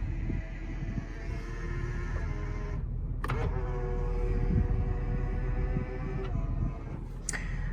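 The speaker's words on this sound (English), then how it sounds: "Folding mirrors." Power folding mirrors on a 2016 Ford F250 Platinum 6.7 Powerstroke whir with several electric motor runs and clicks as they move, heard close over a steady idling engine.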